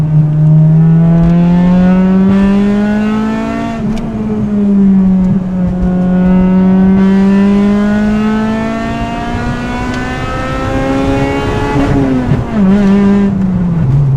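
A Honda Integra Type R engine revving hard up close, its loud, high-pitched wail climbing and dipping repeatedly as the revs rise and fall.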